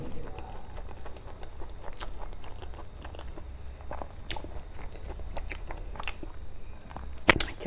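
Crunchy urad dal pakoda being bitten and chewed up close, a steady run of crisp bites and crunches with one sharper snap near the end.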